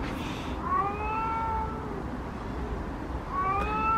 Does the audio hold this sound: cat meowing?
yes